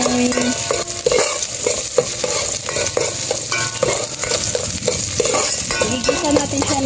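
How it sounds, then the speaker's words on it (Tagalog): Aromatics sauté in a hot pan before tomato is added, a steady close sizzle broken by repeated scraping strokes of a spatula stirring throughout. "Igisa natin siya ng mabuti para mas maano yung kanyang tapos sunod na natin yung ating kamatis."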